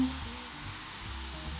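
Pork belly sizzles as it drops into a hot pan for beer braising, giving a steady, close frying hiss with low clattering and no one talking.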